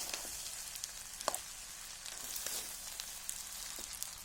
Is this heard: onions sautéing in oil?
yes